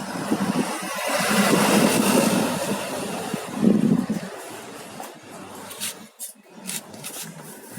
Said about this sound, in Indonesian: kita cek gimana suara mesin pincang biar kalian tahu bedanya mesin pincang dan